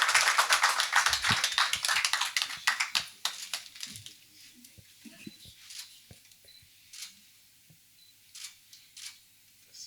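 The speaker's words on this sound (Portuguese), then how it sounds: "Por favor, os aplausos." Applause at a corporate coffee event honoring a company CEO: dense clapping that starts loud and busy, then thins out over several seconds into scattered, fading claps.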